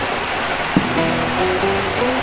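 Rain steadily falling outside a warteg-style kitchen in Indonesia, a soft continuous hiss with no talk, and a brief knock near the start.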